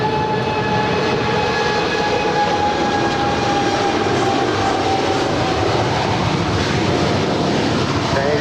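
An Atlas Air Boeing 747-8 freighter departs LAX, its jet engines a loud, steady broadband roar with a sustained whine, continuous and close without pause.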